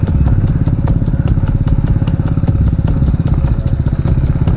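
A motorcycle engine on a rough, muddy jungle track in the Philippines churns steadily and loudly, with rapid rhythmic pulsing and clattering thumps throughout.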